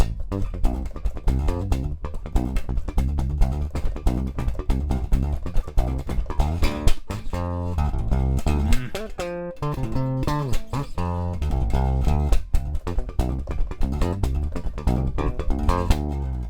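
A funk groove plays with a driving bass guitar line under tight drums and chords, steady and loud throughout, with no talking.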